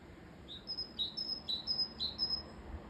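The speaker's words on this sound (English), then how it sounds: "Very loud great tit up there. Is it going to call again?" A great tit calls outdoors on the Isle of Wight, giving a run of about five bright, evenly spaced high chirps, clear against quiet background air.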